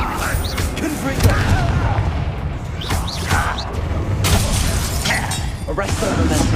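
Spell blasts from Confringo in the Hogwarts Legacy video game, a run of booming magical explosions amid dense combat noise, with voices talking over the fight.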